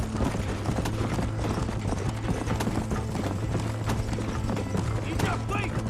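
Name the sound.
horse hooves galloping in video game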